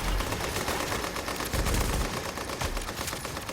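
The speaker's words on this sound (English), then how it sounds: "You have a machine gun too, huh?" Rapid bursts of machine gun fire in the video game Tom Clancy's The Division, loud and close, a dense rattling stream of shots with brief pauses between bursts, no talking.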